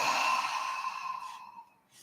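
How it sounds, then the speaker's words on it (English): A big breath pushed out through the mouth during a seated desk stretching routine, one long breathy exhale that starts full and gradually fades over about two seconds, close and alone. "Maybe taking a few big breaths. If you like, you can let it out the mouth."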